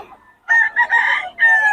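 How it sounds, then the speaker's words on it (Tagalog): Chickens and roosters at an outdoor market in Bocaue, a close, loud rooster crow broken into several bursts across about two seconds, standing clear with no talk. "Ito na ang mga manok niya, oh."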